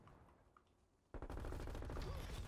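A PPSH-41 submachine gun in Call of Duty Cold War opens up after a quiet moment, a loud, rapid, sustained burst of gunfire that continues to the end.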